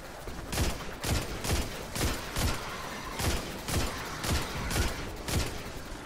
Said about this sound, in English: I am terrible with this scout rifle.